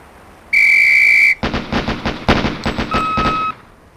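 A loud, steady range whistle sounds in the Police Quest: SWAT video game, followed right after by rapid controlled-pair gunfire bursts with ringing tones.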